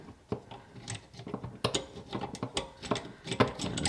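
Small plastic and metal clicks and scrapes as a T-valve with a rubber gasket is hand-threaded onto a toilet's fill connection, an irregular stream of close, light ratcheting taps without talk.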